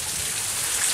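Steady rain falls and patters across a surface in a broad, even hiss, close and continuous, with no voices, as a tropical storm begins to arrive.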